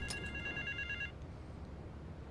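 A payphone rings in Grand Theft Auto III, a bright electronic trill that sounds twice over a low steady game-engine rumble, then cuts off, leaving the hum alone.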